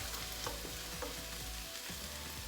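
Soft, steady crackling sizzle of hash browns frying in a pan on medium heat, with small popping bursts, quiet and continuous with no talking.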